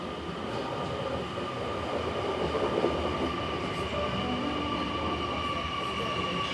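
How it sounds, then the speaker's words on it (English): Sydney train pulling into Strathfield station on a service to Mount Victoria, a steady rumble with some higher rail noise holding evenly throughout, fairly close. "And our train will be coming."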